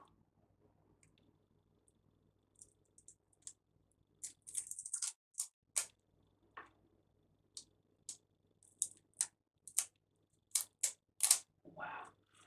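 Masking tape being peeled off a Tamiya Hot Shot model car during a build, quiet at first, then a series of short, crisp ripping and crackling bursts coming in irregular spurts, close and without talk.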